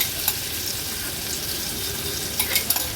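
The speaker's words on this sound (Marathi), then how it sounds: "आता हे वाटण तेलावर छान आपण परतून घेऊया" Coarsely pounded spice paste sautés in about two tablespoons of hot oil in a pot for an Agri Koli fish thali. It gives a steady, close sizzle and crackle, with a few faint clinks and no voices.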